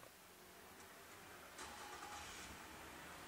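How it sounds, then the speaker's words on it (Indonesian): A 2010 Nissan Teana 2.5XV sedan engine cranks and catches, then settles into a low, steady idle heard from inside the car. "Kita nyalakan mesin terlebih dahulu ya."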